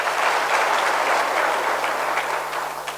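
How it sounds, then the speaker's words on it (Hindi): An audience claps together at a youth gathering, steady dense applause filling the room for the whole stretch and easing slightly toward the end. "ताली बजाइए अपने लिए"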